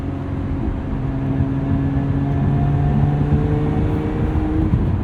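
Engine of a 2024 Lotus Emira mid-engine sports car heard from inside the cabin, a steady close drone with a faint rise in pitch as the throttle opens, no talking.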